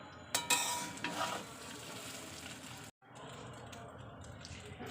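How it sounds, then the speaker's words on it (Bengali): Vegetables for fried rice sizzling in a pan, a soft steady frying hiss with a few utensil scrapes early on and a brief break in the sound midway, fairly quiet and close. "সবজি ছড়িয়ে দেবো এবার দেখতেই পাচ্ছেন সবজিটা ছড়িয়ে দিয়েছি দিয়ে এবার হালকাভাবে নাড়তে থাকবো"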